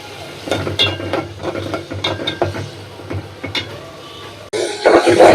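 Prawns fry in a pan with spice paste, a steady sizzle broken by repeated scraping and stirring clatter, close and fairly loud, ending in a sudden louder burst of hissing.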